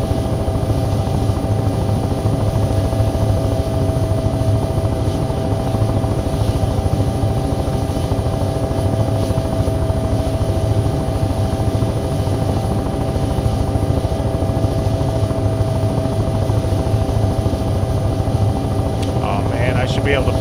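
Simulated helicopter flying in the video game Take on Helicopters, a loud, steady rotor and turbine drone with a constant whine running unbroken throughout, with a voice talking over it.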